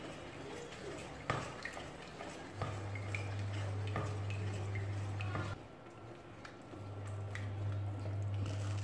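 A spoon stirs a minced meat mixture in a pan over low heat, giving soft scraping and occasional light clinks against the pan under a steady low hum, quiet and close.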